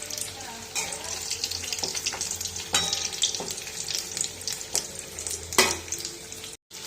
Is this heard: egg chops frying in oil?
yes